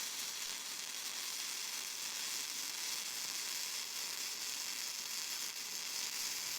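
Flux-core wire welding uphill on thick steel plate gives a steady, even sizzle and crackle, moderately faint and continuous throughout with no break, no talking over it.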